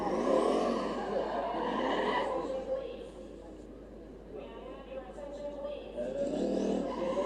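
An LS-engined drift car screeches its tires at a desert drift event in Oman, with a sustained squeal and engine roar rising and falling under loud commentary.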